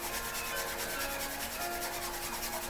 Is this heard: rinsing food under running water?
no